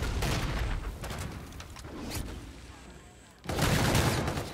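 Gunfire in the shooter Call of Duty: Infinite Warfare comes as loud bursts of automatic fire at the start, a quieter lull with scattered shots, then another heavy burst toward the end.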